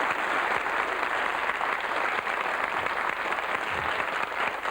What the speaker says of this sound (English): You meant to clap then?